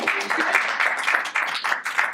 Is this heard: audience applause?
yes